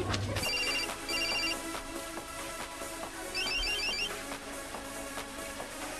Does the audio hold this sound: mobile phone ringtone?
yes